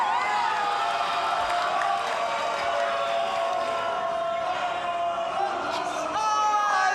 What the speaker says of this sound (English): And we're getting that crowd noise here.